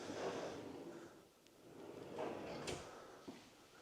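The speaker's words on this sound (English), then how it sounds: "looks like you've got a trash can drawer." A trash can drawer in a modern luxury kitchen island sliding open and shut, with soft rumbling runs and a couple of light knocks, fairly close and quiet, with no talking.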